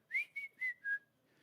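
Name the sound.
person whistling back to imitate a bird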